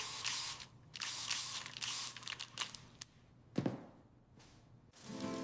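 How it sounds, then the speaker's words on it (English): Several short hissing sprays from a spray bottle onto a dirty window in quick bursts, mixed with wiping and light handling noises nearby. "Let's clean the window. Spray,"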